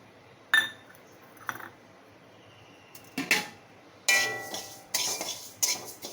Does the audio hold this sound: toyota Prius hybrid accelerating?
no